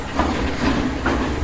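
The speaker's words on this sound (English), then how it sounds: "Why is that train so rude?" A train passing in a movie, a brief steady rumbling rush with low rhythmic clatter, fairly loud and continuous.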